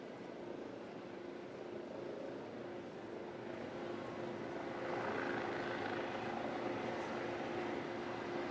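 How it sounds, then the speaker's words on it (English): Helicopter hovering high above a SpaceX crew rocket launch site, a distant low steady rotor drone that swells slightly louder midway. "Sounds like we have a helicopter up there too, maybe."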